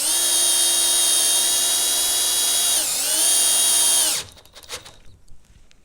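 A Milwaukee M12 cordless drill driving a screw whines steadily at high speed, dips briefly in pitch as it bears down, then winds up and stops, leaving faint handling noises.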